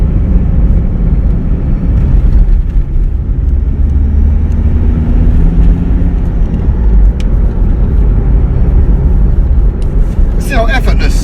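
A car out on its first test drive after an engine rebuild, a loud steady engine rumble and road noise from inside the cabin with no clear gear-change break, and someone talking over it throughout.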